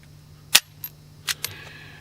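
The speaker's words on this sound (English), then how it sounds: "Fire that pistol double action, of course unloaded." An unloaded pistol dry-fired double action gives a crisp, close hammer click, followed by fainter mechanical clicks and a second sharp snap as the trigger and hammer reset.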